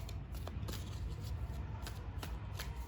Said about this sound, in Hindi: चलिए निकालते हैं और कार्ड्स।